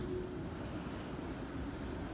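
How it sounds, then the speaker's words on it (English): Road traffic passes at a distance in Beverly Hills, a faint, steady low rumble with no distinct vehicles standing out. "There's sound in the traffic."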